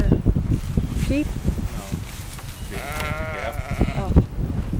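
Sheep on a small farm bleat once or twice in a wavering, nasal call amid rustling and handling noise, with people talking nearby.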